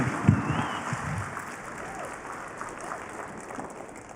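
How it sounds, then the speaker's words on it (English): Applause from a large keynote audience at a tech conference in Las Vegas, a sustained, moderately loud spread of clapping that slowly eases off, with a brief voice near the start. "Give him a big round of applause."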